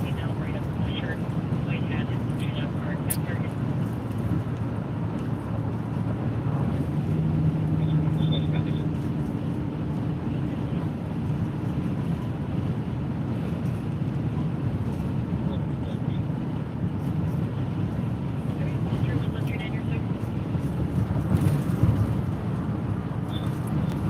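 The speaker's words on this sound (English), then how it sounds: "Wind's starting to get a little bit gusty out here." Gusty wind outdoors during a severe thunderstorm warning, a steady low rumbling buffet across the microphone that swells and eases without pause, with a voice faintly present.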